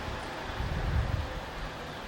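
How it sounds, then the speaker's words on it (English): Soft, steady wind blows outdoors on a beach with a low rumble against the microphone. "It's a bit windy now"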